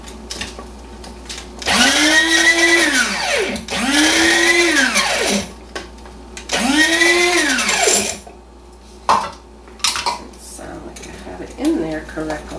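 A blender pulses lavender and sugar in three long, loud whirring bursts with rising and falling motor pitch, then shorter stuttering pulses, separated by brief pauses.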